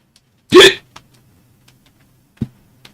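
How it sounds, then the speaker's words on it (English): One sharp, loud hiccup from a person, followed after a couple of seconds by a second, much shorter hiccup, close up in an otherwise quiet room. "Oh my god, these fucking hiccups, dude."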